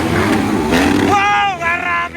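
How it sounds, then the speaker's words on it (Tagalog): Brand-new motorcycle engine revving during a race, a loud close whine that rises and bends in pitch with a brief dip, heard under excited commentary. "Bagong-bago ang motor."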